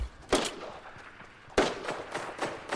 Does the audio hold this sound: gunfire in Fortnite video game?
yes